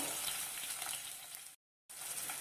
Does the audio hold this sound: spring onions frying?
yes